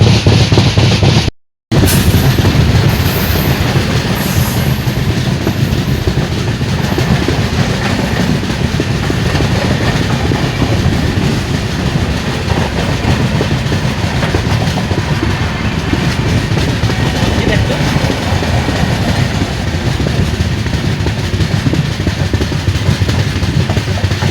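A train rolls along the railway track near Digha, a loud, close, continuous rumble with rhythmic clatter from the wheels.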